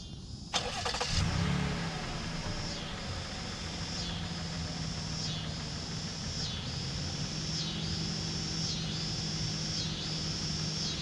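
A 2020 Toyota Highlander Platinum AWD engine cranks and catches with a sharp start near the beginning, then settles into a steady, close idle with light revving and a faint whine that rises and falls.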